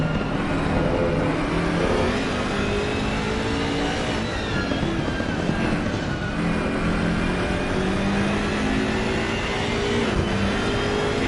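A BMW 6 Series racing on track while chasing a Nissan GTR: a steady, loud engine drone with shifting, rising pitch that fills the whole stretch without a break, with no voices.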